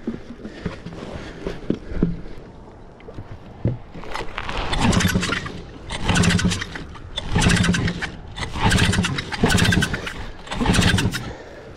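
Engine cranking and catching after fuel is poured down the carburetor in fading evening light, with repeated loud bursts of revving and sputtering at a steady rhythm over several seconds, near and without talk.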